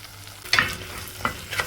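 Chopped okra frying in a pan with softened onions and tomatoes, a close steady sizzle with brief louder stirring scrapes at a few points.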